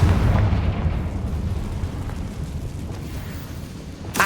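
A Confringo fire spell explodes in Hogwarts Legacy, a heavy rumbling blast that swells at the start and rolls on as a long, dense decay, loud and close, with a sharp pop at the very end.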